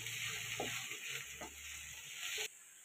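Radish chechki being turned and mixed in a hot pan, with a steady sizzle of frying under a few soft scraping stirs, close and fairly quiet before it cuts off near the end.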